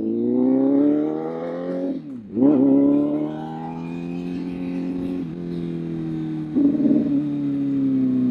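A CFMOTO 500SR motorcycle engine, freshly changed oil, runs loud and close with a steady droning hum, dipping briefly and revving back up twice, no speech over it.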